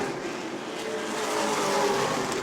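Pro late model race cars roar around an oval track at New Smyrna, a steady loud engine drone with a rising pitch as a pack passes close by.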